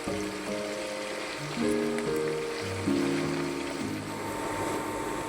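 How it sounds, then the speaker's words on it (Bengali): Pieces of paneer fry in hot oil with a steady, hissing sizzle that runs the whole time, while a gentle melodic tune plays softly over it. "তেলটা আমার গরম হয়ে গেছে। লাল লাল করে পনিরটা ভেজে নেবো আমি।"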